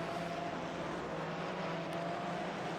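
Porsche and McLaren race cars battle closely in iRacing, a steady high-revving engine drone heard alone, loud and continuous throughout.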